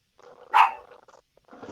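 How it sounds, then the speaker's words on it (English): A single sharp dog bark rings out once at close range, set within a low murmur of background voices and noise. "that was your dog. I know she heard it and started barking"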